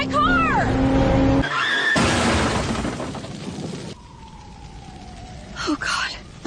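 A car careening out of control with a tire squeal, a loud crash-like burst and engine rumble, followed by a falling whine and more clatter near the end; voices speak over parts of it.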